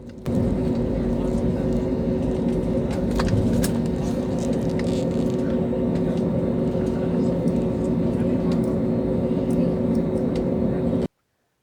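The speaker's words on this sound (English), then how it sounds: "this Indigo flight has completed its taxiing and has reached the runway" An IndiGo passenger jet sits on the runway at Kolkata after taxiing, its engines giving a steady, loud, continuous drone with a broad cabin rumble that holds level throughout and cuts off abruptly at the end.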